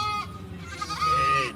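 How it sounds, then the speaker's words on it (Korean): A young goat with a broken leg bleats with a wavering, plaintive cry over a low, rough background. "어디선가 염소의 구조 요청 울음소리가 들려옵니다."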